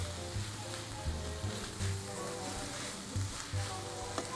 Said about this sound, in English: And this is all we have to do to caramelize our onions.